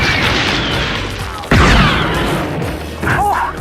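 Video game gunfire comes as sharp, loud cracks, one big blast in the middle and a burst near the end, against a busy noisy background while players talk.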